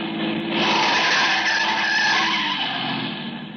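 A car's tires skid and squeal loudly in one sustained screech as the car swerves to miss a jaywalker, a radio drama sound effect, fading slightly at the end.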